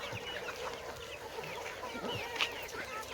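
Flock of chickens kept together on a small farm, soft scattered clucks and chirps at a faint level over a steady low background hum.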